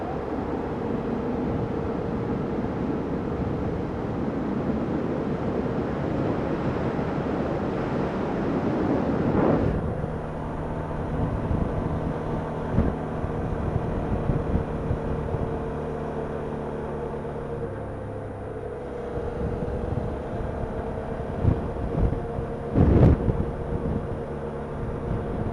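Wind rushes steadily past a rider on a Suzuki V-Strom 650 motorcycle, with a broad, constant roar and a low engine hum underneath. It gusts a little louder around the middle and shows brief buffeting bumps near the end.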